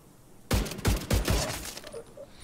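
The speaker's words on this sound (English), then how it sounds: "It fires two shots all the time when you pull the trigger and when you release it." Gunfire from a weapon in the video game Division 2: four sharp, loud shots in quick succession, partly grouped in pairs, each with a short decaying tail, followed by faint electronic game tones.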